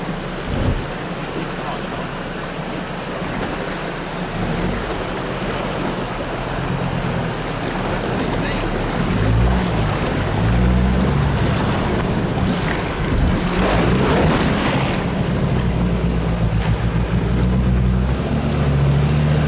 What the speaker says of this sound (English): A water crossing.